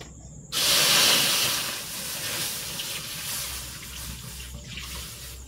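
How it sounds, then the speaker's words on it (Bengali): Milk heats in a pot for a bread-based sweet, with a sudden loud hiss that then settles into a softer, steady seething close by. No one talks over it. "প্রথমে আমি দুধটা ভালো করে ফুটিয়ে নেব"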